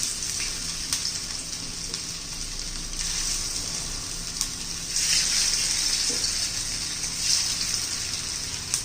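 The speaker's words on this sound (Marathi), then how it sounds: "आता आपण ह्या वड्या तळून घेऊया." Vadis made from leftover chapati frying in hot oil give off a steady, bright sizzling hiss with bubbling swells that rise and fall, close and fairly loud, with no talking.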